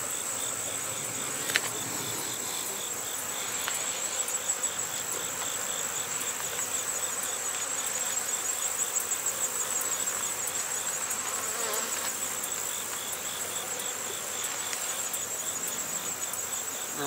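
Bees buzz around an open beehive during a fall colony check: a dense, continuous, close drone holds steady throughout, with a few faint clicks from handling the frames.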